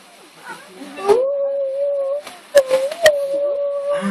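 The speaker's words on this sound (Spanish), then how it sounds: "Y escuchemos ahora la otra foca." A sea lion calls during a sea lion show at Rancho Texas Park in Lanzarote, giving a long sustained howling bark amid clapping and sharp claps, with a presenter and crowd noise around it.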